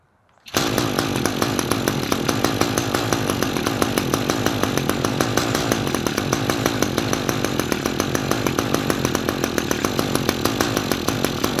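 An Echo SRM-225 string trimmer's small two-stroke engine fires up after carburetor trouble and runs steadily at high revs, a loud, close, buzzing drone that holds for about eleven seconds with no talking.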